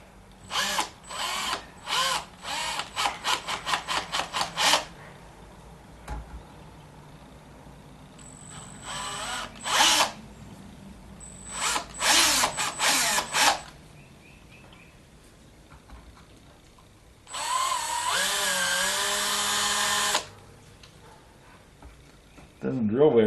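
A power drill works on a 1976 Corvette restomod's storage compartment door, running in repeated bursts: short rapid pulses first, then longer whining runs with quiet gaps between, ending in a sustained loud stretch.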